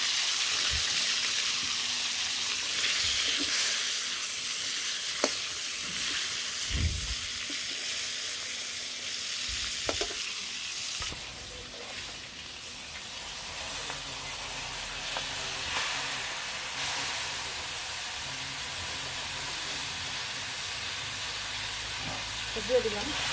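A fish head frying in oil in a village kitchen, a broad steady hiss and sizzle throughout with occasional low knocks and thumps, and a voice speaking briefly over it.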